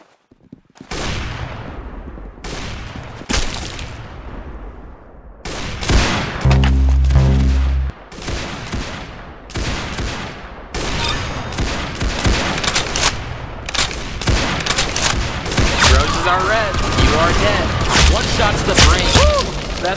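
Rapid gunfire from the Roblox game Arsenal on a beach map, loud bursts of repeated shots and automatic fire crackling almost nonstop, with a louder booming stretch midway.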